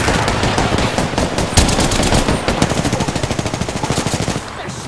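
Rapid automatic gunfire in the Apex Legends video game sounds loud and close, with fast, evenly spaced shots running through the whole stretch before easing slightly at the end.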